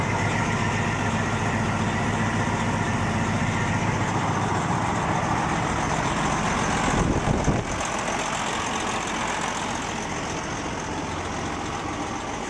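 A truck's diesel engine idles steadily just after starting, a close, continuous low rumble with a short surge of extra noise partway through and no talking.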